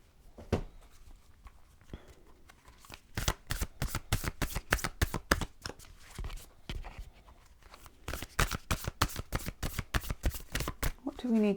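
A deck of animal spirit cards being shuffled by hand in a tarot-style reading, rapid riffling flutters in dense bursts with a brief pause midway, close and crisp.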